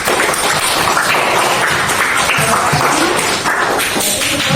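Applause from classmates in a school classroom, a dense and fairly loud burst of many hands clapping that runs steadily for several seconds without talk.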